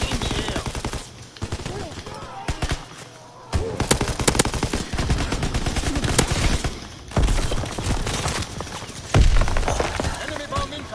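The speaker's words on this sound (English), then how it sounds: "Firing primary weapon." Primary weapon gunfire in the video game Call of Duty WWII online multiplayer, dense rapid automatic bursts and loud cracks that continue almost without pause, with brief lulls and game voices talking under the shooting.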